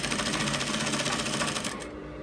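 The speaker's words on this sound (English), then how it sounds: "So you just top stitch on it" A sewing machine runs steadily, top stitching a fly front zipper on curved fabric, with a fast even needle chatter for nearly two seconds before it slows and stops.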